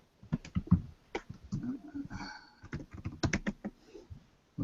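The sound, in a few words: typing on a computer keyboard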